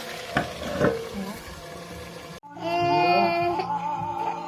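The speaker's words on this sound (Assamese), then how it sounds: "মই ঢাকন লগাই লগাই এতিয়া ভাজি থাকিম" Food frying in a pan, a steady sizzle with stirring scrapes, then a lid clatters and the frying continues more muffled and humming.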